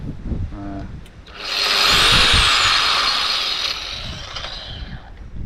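A new DeWalt angle grinder spins up into a loud, steady high-pitched whine for a couple of seconds, then eases down while still running, close to the listener.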